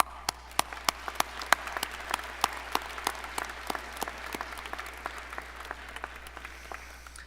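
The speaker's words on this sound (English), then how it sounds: "So that's worth an applause." An audience at the Snow College 2022 commencement on the Richfield campus claps steadily under a low hum, with sharp individual claps standing out near the microphone against a softer, more distant wash of applause.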